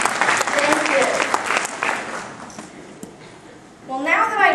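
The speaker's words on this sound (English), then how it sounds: "Let's have a round of applause for them, too." An audience claps at a talk for educators, a lively burst of applause that fades after a few seconds, followed by a voice speaking.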